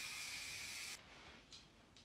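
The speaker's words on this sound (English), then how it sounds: "I think it's time for spray paint." A spray paint can hisses in a steady, bright burst for about a second, then two short, quieter puffs follow at even intervals, close and alone.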